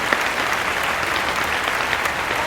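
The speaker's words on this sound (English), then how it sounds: "let's clap for the chef, please." A crowd claps steadily for a chef after a home cooking session featuring sweet corn and stuffing, dense and continuous applause with no talk over it.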